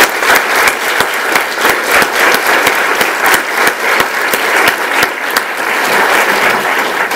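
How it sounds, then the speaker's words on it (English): Convocation crowd in a school district assembly gives a big round of applause for a departing chief of policy and planning, loud dense clapping with some distinct individual claps, continuous for about seven seconds. "Again, let's give Sammy a big round of applause."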